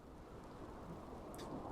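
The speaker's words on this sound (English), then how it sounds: "and it's raining" Steady rain falls in a dense, even hiss, with a low rumble of distant thunder underneath, moderately quiet and without voices.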